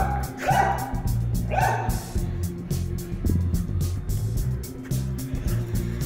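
Dogs bark on a street in the Vila Belmiro neighborhood on a Santos match day, two sharp nearby barks early on, then ongoing street and traffic noise.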